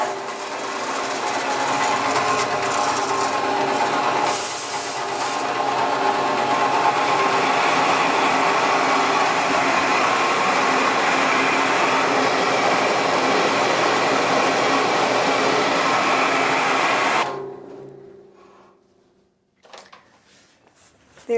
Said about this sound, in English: we turn on the mill, and then we literally grind it for them fresh